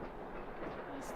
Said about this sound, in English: Those freight trains pass by at least once every 5 minutes all day long.